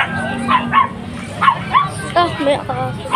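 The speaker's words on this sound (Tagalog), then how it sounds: "Ito, may aso din." Dogs barking and yipping in quick bursts at a pet market in Bocaue, with a corgi among them, close by and moderately loud over a murmur of crowd noise, while people talk throughout.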